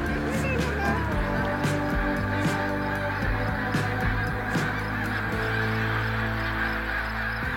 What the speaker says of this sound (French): ce sont des oies sauvages qui se rassemblent par milliers un peu partout dans le pays et se déplacent toujours ensemble en peloton